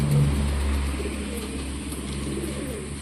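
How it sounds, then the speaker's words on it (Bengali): Pigeons cooing on a rooftop, a low soft warble that is strongest at the start and then fades under steady outdoor background noise, with a faint passing car. "অনেক পায়রাই তো ওপরে রয়েছে।"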